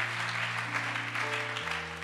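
A church congregation applauding in acclaim of the Lord, a steady dense wash of clapping lasting a couple of seconds over a sustained organ or keyboard chord.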